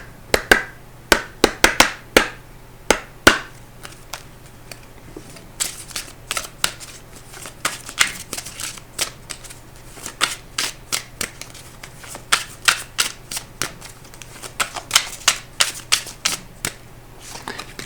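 A deck of oracle cards being shuffled up close, loud riffling bursts and sharp slaps repeating in quick clusters with short pauses between, alone with no talk.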